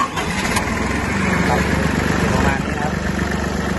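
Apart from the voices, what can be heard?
small tractor tiller engine running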